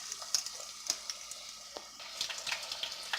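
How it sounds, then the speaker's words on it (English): Hot grease crackles and sizzles steadily as catfish fries, with frequent sharp pops and spatters, fairly close and moderately quiet, with no talking. "as you can see, it done start frying real good."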